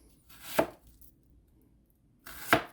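A knife chops vegetables into triangles on a cutting board for stir fry, two separate crisp thuds about two seconds apart, close and clear against near silence.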